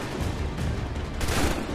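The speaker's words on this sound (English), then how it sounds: "Stop shooting at me, man." Enemy gunfire in Assassin's Creed 3, a dense, steady barrage of close shots over a rumbling battle din, louder in the final stretch with no speech.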